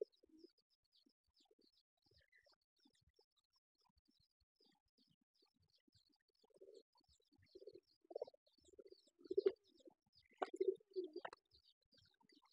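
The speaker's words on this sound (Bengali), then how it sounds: "কবুতর মারামারি কিভাবে করে, কেউ কম না" Siraji and Homa pigeons scuffle, with low throaty coos growing more frequent and louder partway through, and a few sharp flapping bursts near the end. The setting is otherwise quiet, with faint high chirps in the background.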